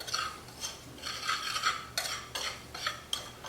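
Black pepper and salt are stirred together for seasoning fried tilapia, giving light scraping and clinking strokes of a spoon against a dish that repeat in short bursts, quiet and close.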